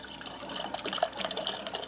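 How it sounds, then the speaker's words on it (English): An LG refrigerator's water dispenser sputters and spits just after a filter change, a faint, uneven trickle of water broken by small gurgling bursts and air pops. "See that little sputtering?"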